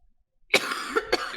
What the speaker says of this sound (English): Uh-oh, she coughed.